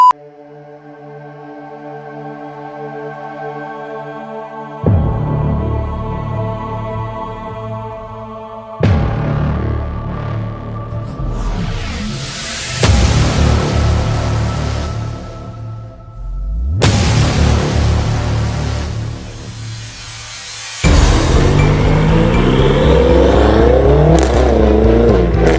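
Green BMW M6 of about 730 brake horsepower, engine rumbling and revving in several loud bursts separated by short pauses, with a sharp rasping rise near the end, heard close up.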